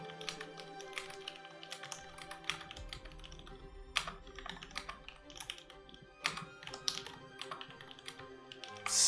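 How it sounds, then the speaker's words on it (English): Rapid, uneven clatter of keys on a computer keyboard as someone types words in a typing-speed test, close and fairly quiet, with no speech. "Go to monkey type and you can write words. I'm so good at typing."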